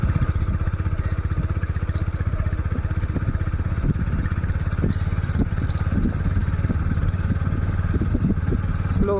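A motorcycle paces a runner during Assam police running practice. Its engine drones loud and steady at close range, with faint voices briefly audible in the latter half.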